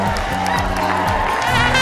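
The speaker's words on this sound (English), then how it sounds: "I see a lot of people cheering." A crowd cheering and clapping along a red carpet at a community Night to Shine event, a dense continuous roar with whoops mixed in and voices talking throughout.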